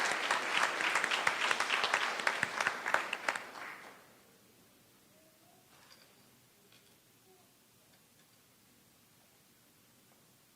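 Audience applause at a high school graduation ceremony, a dense burst of many hands clapping for about four seconds that stops abruptly, leaving faint room ambience.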